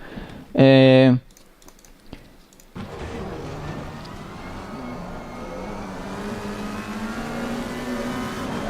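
A McLaren race car accelerating in a racing video game at Silverstone, a steady engine drone rising through the revs after a brief burst of keyboard tapping, heard under a voice talking.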